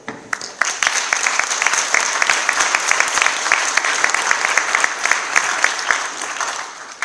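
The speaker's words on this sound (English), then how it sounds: "This is a good place for you to clap your hands." An audience claps hands during a pastor's speech, a dense, continuous round of applause with sharp individual claps that starts abruptly and holds steady and loud throughout.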